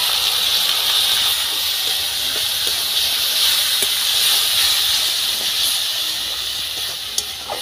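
Steady, loud hiss of water hitting a hot pan of frying chopped tomato, chilli powder, turmeric and salt while cooking a snail (gugli) curry, sustained and close with a faint crackle throughout and no talking.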